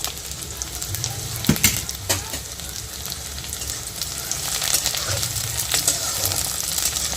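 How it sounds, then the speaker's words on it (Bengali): Potatoes, onion, capsicum and green chilli fry together in a pan for aloo bhuna, giving a steady close sizzle with occasional scraping clinks from stirring. "একটু ভেজে নেওয়া হবে এগুলোকে একসাথে"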